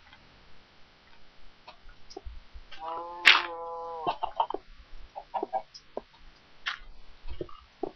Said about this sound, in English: Oh, it's a chicken.